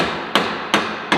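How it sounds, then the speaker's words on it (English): A rubber hammer tapping on farm equipment while local farmers help a neighbor, three evenly spaced, dull, close knocks about a third of a second apart, over steady background noise, no talk. "I think we need to just tap it. Want a rubber hammer or something?"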